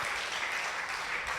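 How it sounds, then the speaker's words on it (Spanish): A church congregation claps in a sustained, even wash of applause that sounds fairly distant and soft, with no speech over it. "Dale ese aplauso al Señor."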